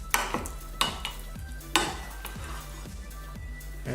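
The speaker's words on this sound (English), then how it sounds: "And flip up the rice." Rice stirred and flipped in a hot pan alongside beef and green beans, a steady sizzle under repeated scraping strokes of a utensil against the pan, with clinks at a loose, regular rhythm and no talk.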